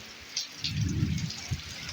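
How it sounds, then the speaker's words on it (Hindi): Steady heavy rain patters and hisses across the whole stretch in a village, with low rumbling gusts underneath. "बरसाति तमामु तेज़ रफ़्तार में जारी आहे"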